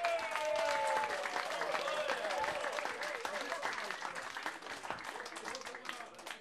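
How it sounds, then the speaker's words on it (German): Audience applause at a summer festival of the SV-Südwest in Ludwigshafen: dense, steady clapping from a crowd, loud at first and tapering slightly, with tonal sounds and voices running underneath. "Stefan Jägi, Applaus bitte."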